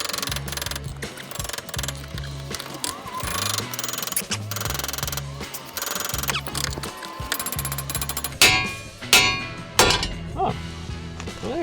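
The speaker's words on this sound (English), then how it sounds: "All I had to do was hit it with a hammer." Repeated heavy metallic hammer strikes ringing on a Mazda Miata's front suspension control arm, fast rhythmic blows at first, then several louder separate clanks near the end.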